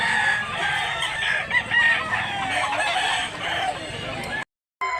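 A rooster crows loudly and repeatedly on a farm, its calls overlapping with other poultry noise in a busy, close setting; no clear talk.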